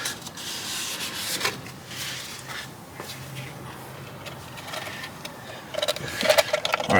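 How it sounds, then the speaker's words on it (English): A cloth wipes the fuel pump mating surface on a Mazda CX-5, giving soft, close rubbing strokes with a few light knocks toward the end and no talking. "go ahead and clean this mating surface right here"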